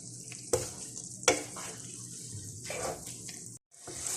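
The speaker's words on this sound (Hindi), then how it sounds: "इसको मिक्स करेंगे गाजरों के अंदर।" A spoon stirs khoya into grated carrots for gajar ka halwa in a pan over a low flame, making soft scraping and moist stirring with a gentle sizzle and occasional knocks on the pan.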